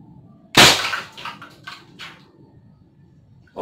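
A modded AT-15 marble spud gun firing: one sharp pop followed by short ringing echoes, then quiet, and another pop starting at the end.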